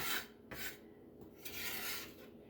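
A lemon is zested on a grater for a salad dressing: several quick, scratchy rasping strokes close up, separated by brief pauses, with no talking.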